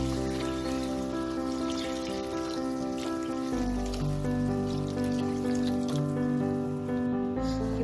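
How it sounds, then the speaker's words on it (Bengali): Water is poured into a pot of semolina while making rava upma, a steady close splashing stream with a ringing, tonal quality. It continues without a break and no one speaks. "তার জন্য আমি 8 কাপ মতো জল এখানে অ্যাড করে দেবো"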